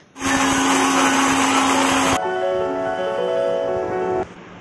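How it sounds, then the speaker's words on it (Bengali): A mixer grinder grinds mustard seeds for mustard hilsa, a loud steady motor whine that shifts pitch partway through and then cuts off. "চলো প্রথমে সর্ষেটা গুঁড়ো করে নেওয়া হচ্ছে"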